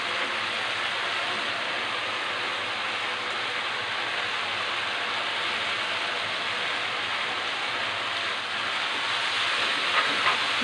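Boiled beef sizzles and hisses steadily in a pan with sauce for a Bangladeshi-style Chinese beef sizzling dish, a dense continuous frying noise, close and even throughout with no talking.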